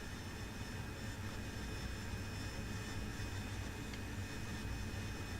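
Steady jet engine roar of an AV-8B Harrier in flight in the DCS flight simulator, a constant even drone with no variation and no speech.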